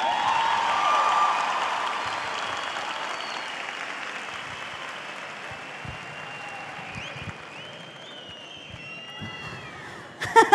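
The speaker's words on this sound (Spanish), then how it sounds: "la Quinta Vergara aplaude nuevamente a Dani Chiqui Aguayo." Audience applause fills the Quinta Vergara amphitheatre at the 2017 Viña del Mar festival, a broad sustained wash of clapping from a large crowd that slowly thins and fades over about ten seconds, ending with a few sharp knocks.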